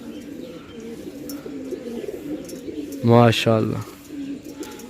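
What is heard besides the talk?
pigeons cooing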